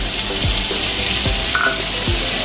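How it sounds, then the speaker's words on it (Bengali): Onion and garlic paste sizzles steadily in hot oil in a wok, a close, continuous frying hiss with a few soft scraping stirs, no talking. "পেঁয়াজ রসুন বাটাটা একসাথে দিয়ে দিচ্ছি"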